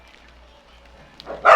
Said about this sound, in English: as the doodles decide it's barking hour.